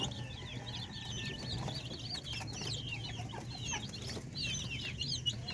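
Chicks in a brooder pen on a poultry farm cluck and cheep steadily throughout, a dense chorus of small bird calls over a low background hum.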